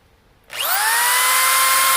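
A power drill running off a camper's solar power setup whirs up after a brief quiet moment, then runs steadily at a high, loud pitch with a rising tone as it reaches full speed.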